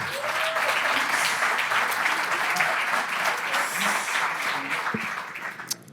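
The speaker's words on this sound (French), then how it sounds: "Applaudissements, s'il vous plaît." Steady applause rises from the audience at a Café Numérique evening in Liège as a Google speaker is welcomed, a dense continuous round of clapping lasting several seconds with faint voices underneath.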